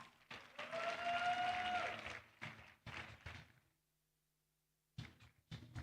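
Audience at a youth empowerment event applauds for a speaker called to the stage, a dense burst of clapping for about two seconds, then scattered thumps and short claps, a silent gap, and brief bursts again.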